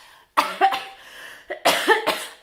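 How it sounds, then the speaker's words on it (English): A person nearby coughs in two short bursts, each a pair of harsh barks, with a brief quiet gap between them. "I'm still getting over this cough, forgive me."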